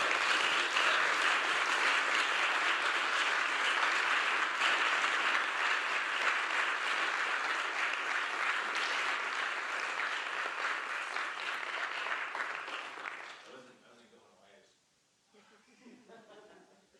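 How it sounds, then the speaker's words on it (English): An audience at a poetry reading claps in long, even applause that holds steady for about thirteen seconds, then fades quickly into scattered claps and quiet room noise. "one more round of applause for Keesis"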